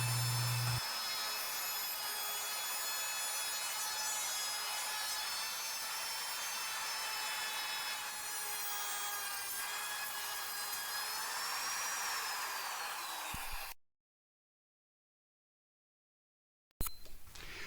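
A router cuts slowly through knots in shiplap boards for a mountain cabin wall, a steady loud whining grind that holds for about fourteen seconds, then stops to silence before briefly starting again.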